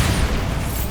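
A Bombarda blasting spell in Hogwarts Legacy, fought in the Feltcroft Catacomb, goes off as a deep, rumbling explosion that fills the whole second with dense low-end boom at steady loudness.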